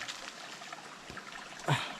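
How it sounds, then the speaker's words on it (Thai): Water flowing in a forest stream, a soft continuous trickle with a brief louder splash near the end, with no talking. "ลำธารที่นี่ก็อย่างที่ผมได้บอกไป ก็ยังมีน้ำเยอะเหมือนเดิมนะครับ"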